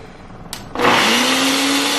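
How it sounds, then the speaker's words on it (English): A kitchen blender purees homemade baby food: after a brief click, the motor kicks in and settles into a loud, steady, close-up whir that runs to the end. "And then I'm just gonna blend it."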